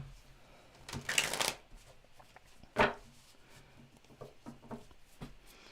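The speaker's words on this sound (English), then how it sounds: "One more shuffle." Tarot cards being shuffled in a quick riffle burst, then a single sharp card snap about a second later, with a few soft card taps afterward, near and fairly quiet.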